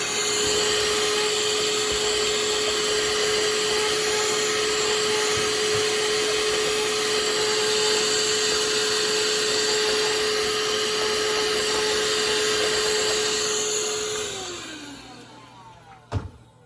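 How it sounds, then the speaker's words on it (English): A household vacuum cleaner runs steadily and loudly near a model train layout, with a constant whine for about fourteen seconds before it winds down and shuts off, ending with a brief clunk. "Now I'm going to go get my vacuum cleaner."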